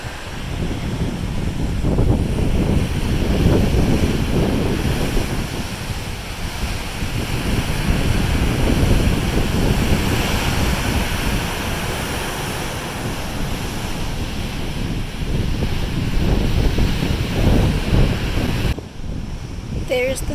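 Atlantic Ocean waves rolling past the cruise ship MSC Meraviglia at dawn, a loud continuous surf roar mixed with heavy wind buffeting on the microphone, with some talk underneath.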